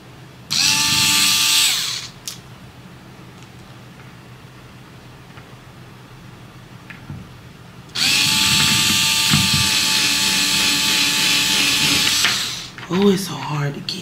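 A power drill bores into a wall in two loud sustained bursts, the first about two seconds and the second about four and a half, with quieter room noise between them.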